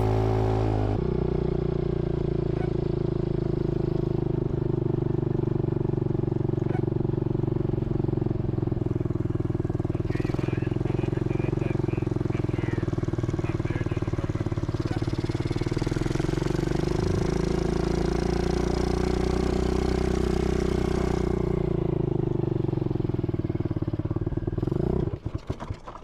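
A dirt bike engine runs steadily for the whole stretch, a loud close idle with rough clattering and small revs, sputtering out right at the end as the engine stalls.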